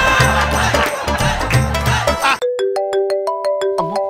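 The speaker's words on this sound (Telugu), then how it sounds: "ఈ టైంలో ఫోన్ ఎవరు?" A mobile phone ringtone plays loudly after a burst of busy music and crowd noise: a clear sequence of bright, evenly spaced electronic tones, close and alone.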